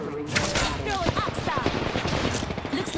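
Rapid automatic gunfire from an Apex Legends firefight, dense bursts of shots crackling continuously over a busy mix of game effects and faint voice chatter.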